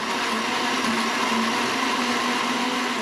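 A kitchen blender whirring steadily while blending a beetroot emulsion with soy sauce and cream, a constant loud motor drone with no pauses or voices.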